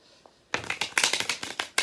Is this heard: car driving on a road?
no